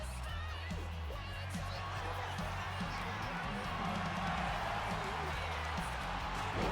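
Arena crowd noise from a women's wrestling match in the WWE 2K25 video game, a steady roar of cheering that holds at constant loudness throughout, with a commentator's voice talking over it.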